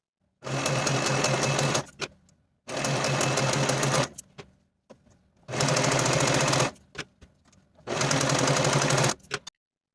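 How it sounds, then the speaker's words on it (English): A serger finishes the edges of fabric shoulder pieces for a 1940s-style blouse, running in four loud, steady bursts of about two seconds each, separated by short pauses with faint handling sounds. "I'm going to take these pieces to the serger and I'm going to finish the edges of the shoulders"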